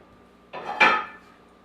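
Two clanks of a metal pan being handled on the stove while oiling it for a sweet and sour chicken dish, one short knock then a louder ringing clatter, close and alone.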